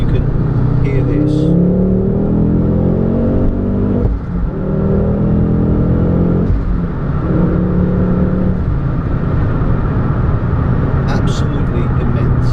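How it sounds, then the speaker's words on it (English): A Ford Focus RS MK2 with the Mountune MR375 upgrade accelerates hard on a slip road, its engine roaring loudly from inside the car and rising in pitch through repeated gear pulls while a person talks over it. "It's got a kind of dirty guttural roar to it."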